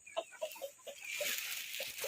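Free-range farm chickens cluck softly in a run of short rhythmic calls at moderate distance, with a hissing outdoor background rising partway through during hot, dry weather.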